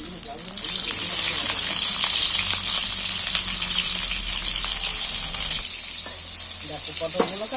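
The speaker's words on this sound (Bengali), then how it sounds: "দেখো পটলগুলোকে আমি ভালো করে ভেজে নিচ্ছি।" Cut pointed gourd pieces frying in a generous amount of hot oil, a loud, continuous rushing sizzle that stays steady throughout, then thins slightly toward the end as a few utensil clicks come through.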